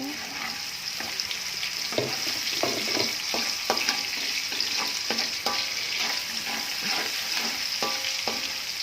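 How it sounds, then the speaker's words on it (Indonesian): Two onions sautéing in a pan give a steady sizzle, with a stirring utensil scraping and tapping in a loose rhythm close by. "Kita masukkan 2 bawang. Kita tumis sampai sedikit layu."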